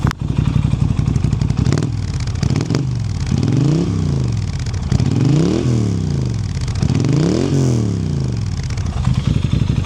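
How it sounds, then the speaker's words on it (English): Air-cooled parallel-twin engine of a 2016 Norton Commando 961 Café Racer running loud and close after starting, with a steady rumbling idle broken by repeated throttle blips that rise and fall in pitch. "There we are, modern sounding air-cooled twin there."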